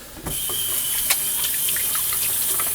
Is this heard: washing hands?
yes